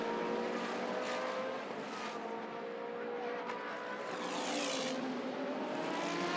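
Several GT Asia race cars, including Ferraris and Aston Martins, roar past beneath a bridge on a Korean circuit, their engines droning steadily loud and swelling as each car goes by.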